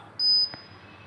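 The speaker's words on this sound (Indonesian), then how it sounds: "kalau ready biasanya bunyi bip 2 kali ya" A network device powering up on an adapter gives two short, bright electronic beeps in quick succession, moderately loud over a quiet room hum.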